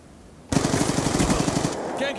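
MP7 submachine gun in a multiplayer shooter video game, a close, loud burst of rapid automatic fire with evenly spaced rounds lasting well over a second, then breaking off into brief game sounds.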